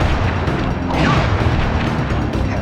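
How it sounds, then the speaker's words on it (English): A fiery Flame Foo firework attack in Sly Cooper bursts with a loud booming roar, crackling and rumbling steadily for a couple of seconds with a sweeping whoosh partway through. "I will send you to your doom with the beauty of my new firework technique"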